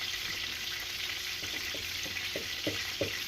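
Close, steady frying sizzle of flour-coated morel mushrooms in a pan, with small crackles and soft pops scattered through it, no voices.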